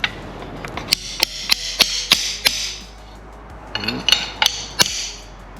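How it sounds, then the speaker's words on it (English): A 7/8 wrench taps a metal retainer sleeve onto the drive shaft of a Yamaha 115–130 hp outboard: a run of sharp, ringing metallic knocks in uneven rhythm, a short pause, then another quicker cluster of taps, close and clear. "To reset the sleeve, I use a 7/8 wrench. It fits perfectly over the drive shaft, and you can just tap it in place."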